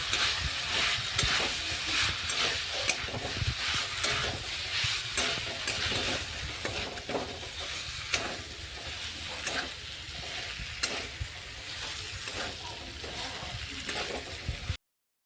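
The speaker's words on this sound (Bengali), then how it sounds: "এবারে সিদ্ধ করা এঁচড়গুলো দিয়ে দিচ্ছি। এঁচড়গুলো একটু ভালোভাবে কষে নেব।" Boiled jackfruit and potato frying in spiced oil for a jackfruit curry, a steady broadband sizzle with intermittent stirring scrapes running throughout, close and fairly loud, no talking.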